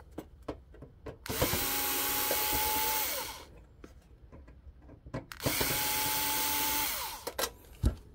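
Power drill driving out two screws from an electric stove during repair, two separate loud whirring bursts of about two seconds each, with small clicks and handling knocks between them.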